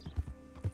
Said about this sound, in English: The horse is right there, Arthur